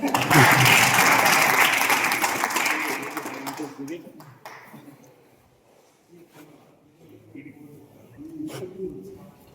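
Seminar audience clapping at an RCM business meeting, a loud burst of applause for the first few seconds that quickly dies away, followed by quieter room sounds and scattered noises.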